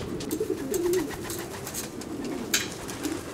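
Racing pigeons in an Amsterdam pigeon fancier's loft coo steadily and close, with low rolling calls over a soft background hiss and scattered faint bird sounds.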